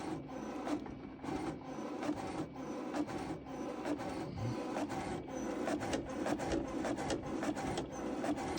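A vintage HP colour inkjet printer printing, with a busy mechanical whir and rapid rhythmic clicks and rasps of the print head shuttling back and forth, steady and close with no talking.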